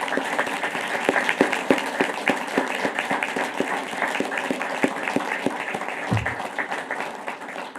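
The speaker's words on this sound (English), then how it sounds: "please to stand and give a round of applause for all the Vietnam veterans that serve in our community" A city council audience applauds Vietnam veterans, steady crowd clapping at moderate distance sustained throughout with a brief low thud near the end.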